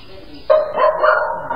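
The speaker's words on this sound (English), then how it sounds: "As their dog is barking throughout the house" A single dog bark or yelp bursts out, followed by a drawn-out whining bark, moderately loud indoors.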